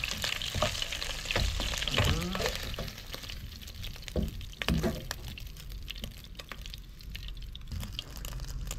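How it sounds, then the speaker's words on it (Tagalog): Garlic and onion sauté in a pan for Filipino beef rib bistek, with a close, continuous sizzle and crackle, sputtering oil, and occasional stirring clatter from the utensil. "magigisa tayo ng bawang at sibuyas"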